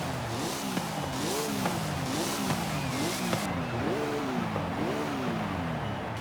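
A road-going race car in Forza Horizon 5 revs high and steady, its engine note rising and dipping in regular, repeated swells through gear changes, with no talk over it.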